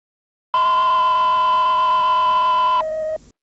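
Emergency alert system attention tone: a loud, steady electronic two-tone signal holding for about two and a half seconds, then dropping to a single lower tone before cutting off, heard alone.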